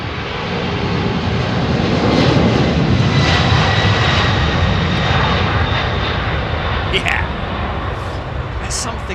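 An Airbus A350 jet departs runway 27R at Heathrow, its engines a loud, steady, broadband roar that swells and holds throughout, with a voice talking over it.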